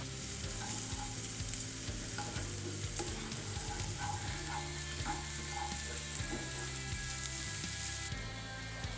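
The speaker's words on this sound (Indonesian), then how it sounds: "tuang minyak pada teflon, lalu tumis bawang bombay hingga harum" Onion sizzles in oil in a non-stick Teflon pan, a steady bright frying hiss with occasional scraping stirs, close and continuous.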